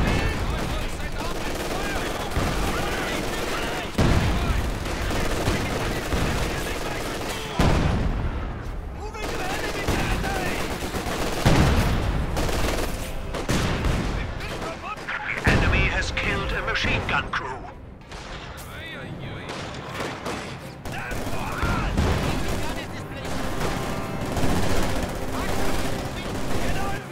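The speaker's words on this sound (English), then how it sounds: "Fragmentation bombs." Repeated bomb blasts and gunfire crackle through a Company of Heroes 2 battle, loud bursts recurring every few seconds over a dense, continuous combat din, with voices talking in between.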